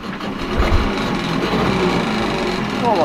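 A new outboard engine on a dinghy runs quietly at idle, giving a soft, steady mechanical buzz with light rattling close by.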